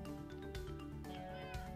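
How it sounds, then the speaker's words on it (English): A cat in Minecraft gives a couple of drawn-out meows, quiet and close, over a soft background hum. "My cat's making weird noises."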